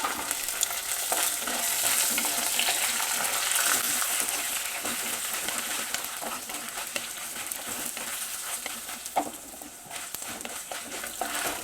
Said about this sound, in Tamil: கடுகு பொரியுது ஃப்ரெண்ட்ஸ் தனியா அதுக்கப்புறம் வெந்தயம் சீரகம் காஞ்ச மிளகா